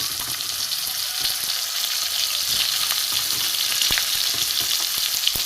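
Carrot and cucumber pieces fry in a hot pan for a Bengali shukto, giving a steady, loud sizzle with occasional stirring clicks and no voices.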